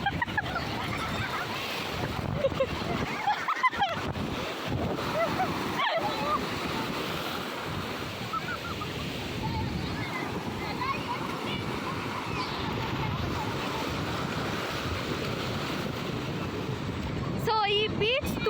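Waves rolling and washing continuously at Velankanni beach, a broad steady surf roar with wind buffeting the microphone and occasional louder splashes.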